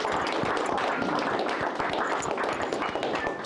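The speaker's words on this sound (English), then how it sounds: "Let's give Lucius, Firmin, and Brendan a big round of applause" Audience applause at a clothing brand launch event, a dense burst of many hands clapping close by, steady for a few seconds without talk.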